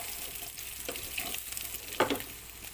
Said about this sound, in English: I'm gonna add my sausage. And then just cook this sausage for another